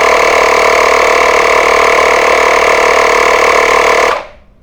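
A Makita 18V LXT ADMP180 cordless inflator runs at steady, loud volume while topping off a tire, its motor droning continuously before cutting off abruptly near the end.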